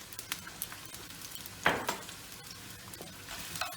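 Coarsely chopped garlic dropped into a pan with onions, a steady close sizzle with a sharp burst as it lands, then light stirring scrapes and crackles continuing under the frying.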